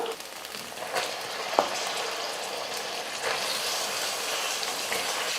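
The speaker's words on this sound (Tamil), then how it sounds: "இப்போ இதில் நம்ம சிக்கன் சேர்த்துடலாம்" Chicken frying in oil with ginger garlic paste gives a steady, close sizzle with a soft crackle and one sharp knock near the start, with no talk.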